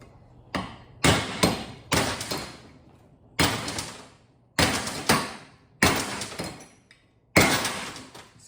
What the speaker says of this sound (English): See that? That was a ping. I can hear it ringing.